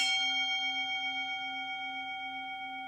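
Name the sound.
ringing bell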